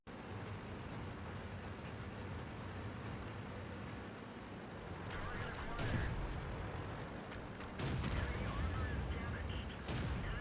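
Tank cannon shots in World of Tanks with a T71 on the Sacred Valley map: two heavy, booming blasts land a few seconds apart over a rumbling engine drone, alongside a voice.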